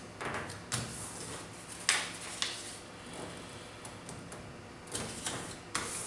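Paper pieces for a geodesic dome are folded along an inside triangle, giving faint, close crinkles and soft creasing taps at irregular moments over a quiet background.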